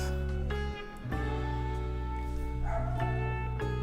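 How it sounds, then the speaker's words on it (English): A dog barks and yips a few times, fairly close, over a steady droning background tone. "Oop, my dog is barking."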